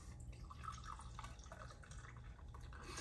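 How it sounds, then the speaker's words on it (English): Sparkling rosé wine, made largely from Mission grapes, poured from the bottle into a glass, giving a steady faint trickling and fizzing that runs unbroken for about three seconds with no talk. "Or pour it in a glass."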